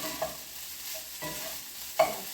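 A spatula scrapes and tosses fried rice seasoned with oyster sauce in a hot pan, with soft sizzling under three distinct stirring scrapes, the last one sharper and louder.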